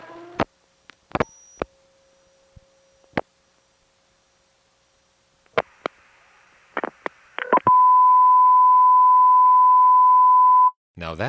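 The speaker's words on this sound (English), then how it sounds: "Now that tone was a fairly common one on phone company test lines." A steady electronic test tone from a telephone company test line in the 831 exchange of New York's 914 area code, heard alone for about three seconds after scattered clicks and short beeps of dialing.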